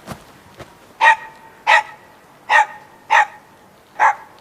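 A dog barks five times at an even, unhurried pace, loud and close, with two faint knocks before the first bark and no voices.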